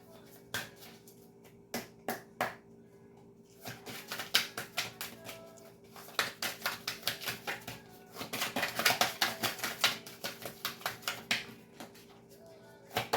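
Tarot cards are shuffled and riffled during a reading, giving sharp, quiet clicks and flutters in irregular bursts that grow busier and denser toward the middle, close by over a faint steady hum.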